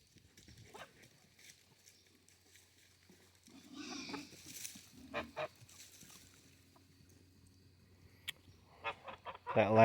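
Scattered goose honks and farmyard fowl calls, intermittent and moderately close, with quiet gaps and a louder squealing call at the end.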